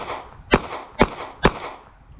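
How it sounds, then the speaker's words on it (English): Three sharp, loud shots from a Smith & Wesson Bodyguard 2.0 pistol firing Fiocchi Defense Dynamics rounds, spaced about half a second apart, each with a short ringing decay and no talking. "We're gonna keep shooting."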